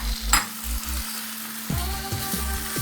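Hilsa fish sizzling as they go into a pan of cooked taro stems, with bursts of frying hiss, spoon clatter and a steady low hum in between.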